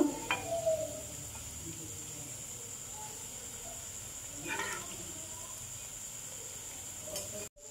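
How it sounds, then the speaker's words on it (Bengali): Sweets fry in hot oil with a faint, steady sizzle and hiss, broken by a few soft stirring or lifting clicks. "দেখো সামান্য একটু কালার করে করে ভেজে নিব।"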